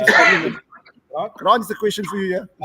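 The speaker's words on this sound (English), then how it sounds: "Sorry, he sneezed." A man sneezes once, sharp and close, then a voice starts talking right after it.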